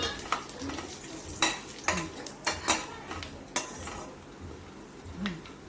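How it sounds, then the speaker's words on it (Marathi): Whole garam masala spices frying lightly in hot oil in a kadhai (wok) for homemade chicken masala: a soft, steady sizzle broken by spoon clinks and scrapes against the metal, close by and with no voices. "तेल गरम झालेले आहे ह्याच्यामध्ये सर्व गरम मसाले आपण फ्राय करून घेऊया हलकेसे"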